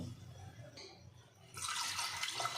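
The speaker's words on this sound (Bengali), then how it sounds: "জল দিয়ে দিলাম 1 মগের মতো" Water splashes and pours steadily into a cooking pot, a bright rushing stream starting partway through after quieter kitchen handling sounds, close and fairly loud.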